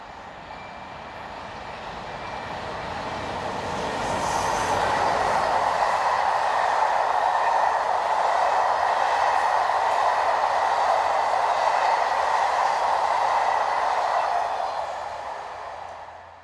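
A passenger train runs from Brussels toward Liège, its rumble rising to a steady broad roar as it passes close by and then easing off at the end, with no voices.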